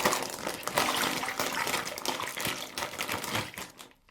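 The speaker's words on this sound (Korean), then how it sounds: "지퍼백을 잠그신 후 다시 흔들어서 풀어줄게요" Fabric softener and water slosh and a plastic zipper bag crinkles as it is shaken rapidly and rhythmically up close for several seconds, then stops abruptly.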